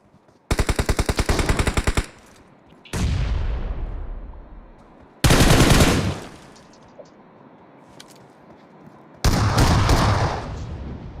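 Gunfire in the battle-royale game BGMI: a rapid automatic burst, then three more loud volleys separated by quieter stretches of echoing blasts, close and sharp.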